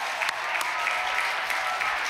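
A live show audience at a Red Bull ski-jumping event applauds Adam Małysz: steady, dense clapping that fills the space evenly and stays loud throughout, with no voices standing out.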